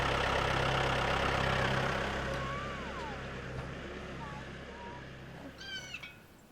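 A low, steady tractor engine idles in the background while scattered faint chirps and calls come and go, with some voices nearby.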